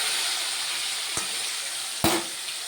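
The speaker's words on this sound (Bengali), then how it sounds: "আর এই মাছগুলো না বেশি জোরে ভাজবো না, আস্তে আস্তে করেই ভাজবো" Hilsa fish pieces fry gently in a pan, giving a steady, soft sizzle with two brief clicks or taps partway through, and no talking.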